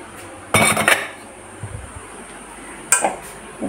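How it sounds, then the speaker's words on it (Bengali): A metal kadai is set down on a stove with two sharp, clattering clanks of cookware a couple of seconds apart, heard up close in a quiet kitchen while semolina halwa is being prepared. "এদিকে কড়াই বসিয়ে দিলাম"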